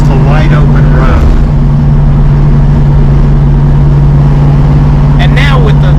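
Orange Dodge Charger Rallye hot rod with a Hemi engine and Tremec TKX gearbox cruising an open road, giving a loud, steady low engine drone with brief voices at the start and end.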